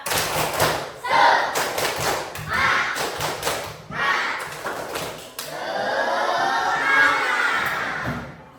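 Schoolchildren repeat the 'tepuk semangat' clapping chant in a classroom, with clustered claps and thumps in rhythmic bursts, children's voices chanting between them, and a long loud vocal stretch near the end.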